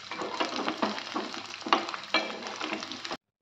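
Hot oil sizzling in a pan while making restaurant-style chilli paneer, a continuous crackling hiss with a few sharper pops and scrapes, then abruptly cut off, no talking.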